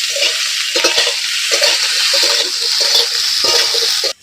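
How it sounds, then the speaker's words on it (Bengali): Brinjal and potato pieces fry together in hot oil, a loud continuous sizzle broken by repeated scraping stirs, ending with an abrupt cut near the close. "ভাজা করে নেবো, বেগুন আর আলু একসাথে।"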